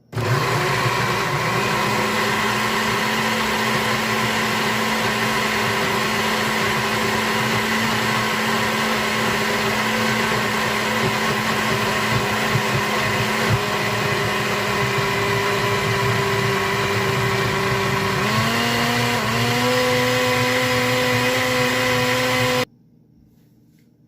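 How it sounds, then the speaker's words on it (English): A blender grinds chili dipping sauce ingredients in a loud, steady, close whine. Its pitch shifts upward partway through the run, and then the motor stops abruptly just before the end, with no talking. "And we're going to do the blending."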